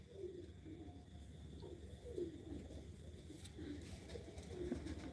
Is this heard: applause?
no